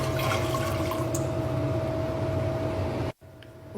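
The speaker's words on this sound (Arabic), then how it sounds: "الكريم كراميل راح أضيف كاستين موية" Water pours steadily into a caramel custard mixture, a continuous gushing and splashing stream that stops abruptly near the end.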